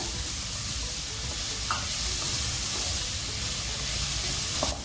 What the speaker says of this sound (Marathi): इथे आपण दोन मिनटं कांदा छान परतवून घेऊया